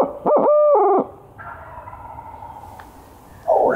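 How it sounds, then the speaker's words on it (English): A wild turkey gobbles in answer to an owl hooter call: a loud, close hooting call first, then a long rattling gobble farther off across a river, and a second call at the end. "Oh, that's a long gobble."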